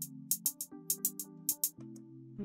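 Programmed hi-hats in an Afrobeat beat made in FL Studio 20 tick in short bright bursts, some notes pitched up a step for variation, over a sustained bass and chord bed with no talking.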